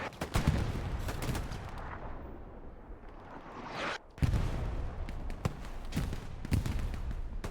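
Mortar shelling and a heavy artillery strike on a Hell Let Loose battlefield: dense, loud explosions and gunfire crackle in rapid bursts, easing briefly before a fresh wave of booms and sharp cracks.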